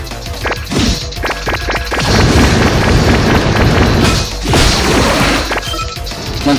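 A Pokemon Quest battle produces an Aqua Jet attack effect: a quick burst of sharp thwacking hits followed by loud, crashing splash-like whooshes that rise and fade in waves, with no voices.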